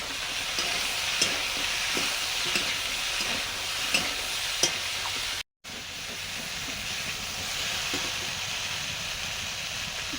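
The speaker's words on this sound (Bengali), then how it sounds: "সবজি কষানো হয়ে গেছে" Vegetables with chilli, ginger and cumin stir-frying in a pan, a steady loud sizzle and hiss with occasional scraping stirs, continuing alone after a brief gap.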